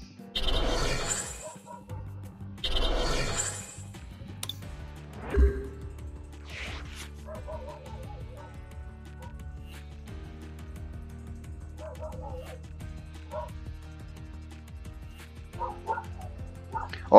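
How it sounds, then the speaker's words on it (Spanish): Dogs bark in two loud bursts near the start, then quieter scattered sounds follow, with someone talking at times. "Y los perros culiados se vuelven a ladrar de pana."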